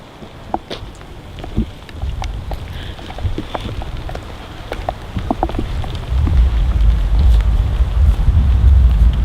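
Scattered raindrops and snow patter and tick on surfaces against a steady wash of wind, growing louder and rumbling toward the end.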